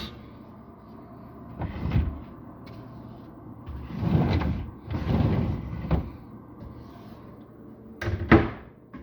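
Older sliding drawers in lower kitchen cabinets are pulled open and pushed shut several times, each making a rolling rumble that ends in a thud, with a final loud knock close by.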